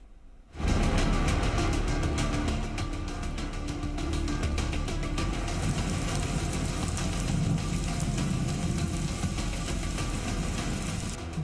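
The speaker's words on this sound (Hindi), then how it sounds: "बारिश इतनी, सांसें अटकी।" Heavy monsoon rain in central India pours down in a dense, constant roar that starts abruptly and continues without a break.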